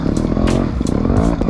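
A 2007 GasGas 300 TXT Pro two-stroke trial motorcycle engine runs close by, a loud, steady idle with a few light throttle blips and some mechanical clatter, no talking.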